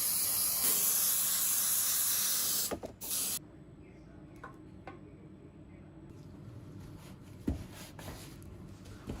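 Cocoa butter sprayed onto chocolate Easter egg molds: a loud, steady airy hiss from the sprayer for about three seconds, then it cuts off, leaving quiet room sound with a few faint clicks and knocks.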